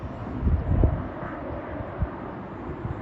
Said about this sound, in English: Big army aeroplane.